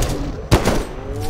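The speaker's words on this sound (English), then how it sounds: "I'm gonna put some shotgun shells in him" A single shotgun blast fired in the video game Bigfoot, set in Yellowstone Park, lands as one sharp, loud burst with a short decaying tail over quiet ambient game sound.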